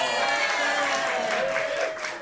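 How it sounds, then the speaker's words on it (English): A crowd at a live improv comedy show at The Crocodile claps continuously, a dense and even roar of hands with some cheering that eases slightly toward the end. "So those of you who applauded twice, just know that I see you."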